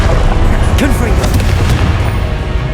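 Confringo fire-blast spell going off in the Hogwarts Legacy video game, heard as a loud, dense boom with crackling blasts that keeps going for the whole moment, while game voices and effects are mixed in.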